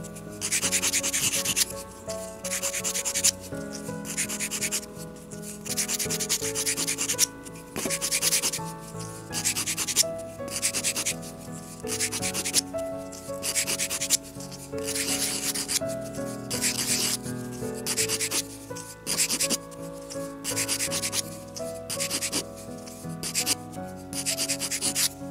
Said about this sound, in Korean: 막대사포를 사용해서 좀 면을 많이 깎아내야 되겠죠?